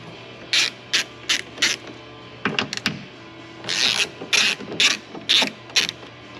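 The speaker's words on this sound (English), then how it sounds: "we're also going to loosen up these two 10 millimeters just to get it back" Ratchet wrench loosening two 10 mm bolts on the passenger door of a 2018 RAM Quad Cab truck, close and clear, with bursts of rapid clicking pawl strokes separated by short pauses.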